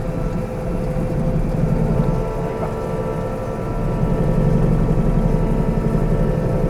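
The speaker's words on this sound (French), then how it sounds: "on met la prise de force du tracteur en route. C'est ça qui va faire tourner les disques derrière" A tractor's power take-off spins the discs of a fertilizer spreader, producing a loud, steady, close mechanical drone with a low rumbling throb that holds without a break.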